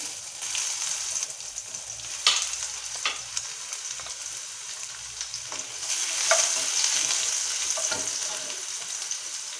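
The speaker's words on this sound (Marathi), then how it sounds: "तेल गरम झालं आहे, त्यात जिरं मोहरी टाकायची थोडीशी" Cumin and mustard seeds sizzle in hot oil for golachi bhaji, a steady bright hiss broken by a few sharp pops and clinks, close and moderately loud with no talking.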